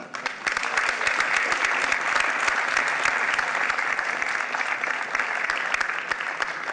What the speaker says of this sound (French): On peut applaudir Monsieur Pollard.